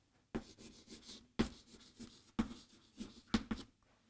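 Writing on a board or paper in a classroom lesson, four short scratchy strokes at roughly one-second intervals, close and quiet, no talking.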